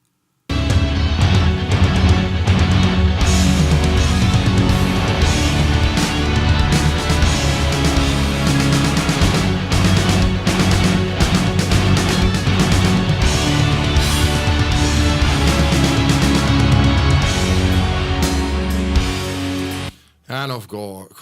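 Strings fill a dense, loud recorded song mix alongside full band backing, sustained and continuous for most of the stretch before cutting off near the end, when a voice briefly begins.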